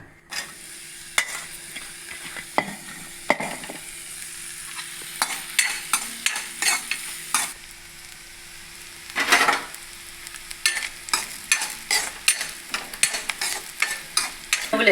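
Grated fresh coconut stirred in ghee in a pan, with a spoon scraping and clacking in irregular strokes over a soft steady sizzle, close and fairly loud.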